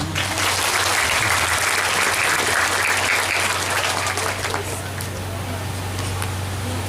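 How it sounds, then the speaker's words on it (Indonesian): A crowd claps steadily and warmly for several seconds at a parenting seminar in an Islamic boarding school, the applause fading slightly toward the end, with murmuring voices underneath. "Tepuk tangan untuk beliau."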